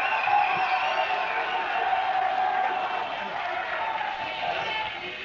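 An audience at the 1987 New Music Seminar DJ and MC battle cheers and applauds for a DJ, a steady roar of clapping and whoops with a voice talking over it.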